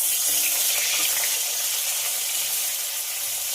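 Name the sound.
pointed gourd (potol) frying in oil in a wok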